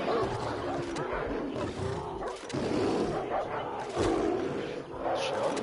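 In Far Cry 4, animals such as a Rottweiler, tiger and bear fight in a pit, giving a steady, dense mass of roaring and snarling that barely lets up over the whole stretch.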